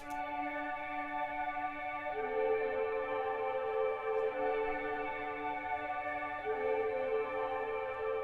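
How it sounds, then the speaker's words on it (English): A sustained synth pad holds layered chords steadily, with a chord change partway through and no voices. "the last thing we add to our verse section is this cool pad sound."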